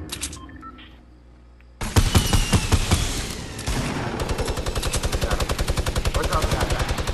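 Fortnite gunfire: a few short beeps first, then a loud burst of rapid shots, followed by a long, steady, evenly paced stream of automatic fire close up.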